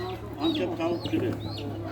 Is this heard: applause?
no